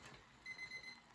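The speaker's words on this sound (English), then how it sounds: "my timer going off." Kitchen timer going off beside a gas stove while porridge cooks, a quick run of four short, evenly spaced electronic beeps, fairly faint against a quiet room.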